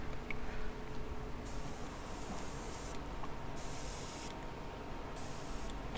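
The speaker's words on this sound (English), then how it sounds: "I'm going to try to spray this like straight out of the bottle right now" An airbrush sprays paint onto an LT4 supercharger cover in bursts of close, loud hiss, four or so spray passes separated by short pauses, with no talking.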